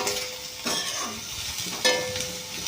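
Dried shrimp and chopped onions frying in a pan, giving a steady close sizzle with a few brief stirring scrapes.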